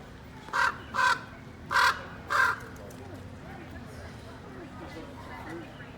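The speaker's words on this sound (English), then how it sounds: "That was a beautiful raven." Four hoarse raven croaks in quick succession near the start, fairly clear over a steady outdoor background hum, followed by several seconds of quiet ambience on a road trip through the Yellowstone and Grand Teton area.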